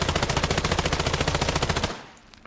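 Rapid automatic gunfire from the video game Islands of Nyne rattles off in one loud, close, evenly spaced burst of about twenty shots, then cuts off into a short fading tail.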